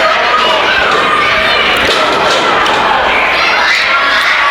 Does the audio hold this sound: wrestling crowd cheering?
yes